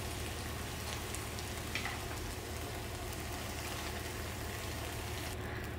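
Octopus and bok choy stir-fry in a pan, with a steady low sizzle and a soft, constant crackle running through the whole stretch and no voices.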